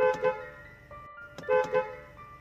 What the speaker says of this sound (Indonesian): Tiba-tiba terdengar suara klakson di telinga kami